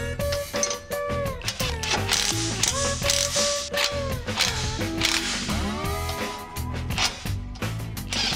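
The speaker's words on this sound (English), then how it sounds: "We'll tighten the bolts down to hold on the bumper" A ratchet tightens bumper bolts on a Toyota 4Runner with rapid clicking strokes, close up, mixed with metallic clinks and squeaks over about eight seconds.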